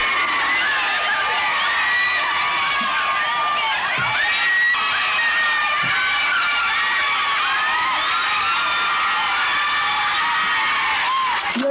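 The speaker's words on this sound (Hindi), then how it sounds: "यकीन न हो तो ये चिल्लाने की आवाजें सुन लीजिए।" A large crowd in London in 1931 shouts and cheers for Gandhi, a continuous, loud roar of many voices with whoops, recorded with a thin, old-sounding quality.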